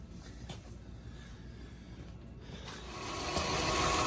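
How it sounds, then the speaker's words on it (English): The power steering on a 1999 Toyota Sienna winds up with a whirring, rising mechanical whine near the engine, growing louder over the last second, with no voices. "You can hear the power steering go a little bit. You know, you can hear it kind of wind up."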